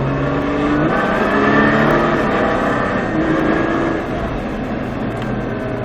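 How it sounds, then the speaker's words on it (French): A car accelerates on a race track, its engine note rising in pitch and holding a loud, steady roar before easing slightly near the end. "filet de gaz, et tu pourras accélérer."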